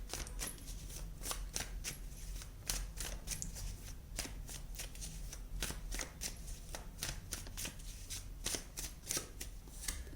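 Tarot cards are shuffled continuously for a reading, a steady stream of close, rapid riffling and flicking card sounds with frequent sharp snaps, no talk over it.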